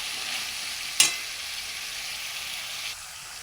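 Curry with turmeric being sautéed in a pan, a soft continuous sizzle with one sharp scrape of the spoon near the start and a faint second stir later, no talking.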